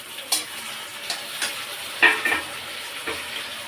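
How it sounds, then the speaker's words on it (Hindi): Tomatoes go into a pan of frying onions and chillies, which sizzle softly and steadily close by, broken by a few sharp clinks and scrapes of stirring. "हो गए हैं हमारे मिर्ची और प्याज इसमें डाल के टमाटर।"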